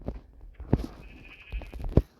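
A goat bleats a few times at close range, two short cries standing out over quiet farmyard background noise.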